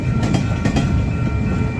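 Union Pacific freight train rolling past in St Paul, Minnesota, with a loud, close, continuous rumble of wheels on rail and rhythmic clacks as cars pass, no talking.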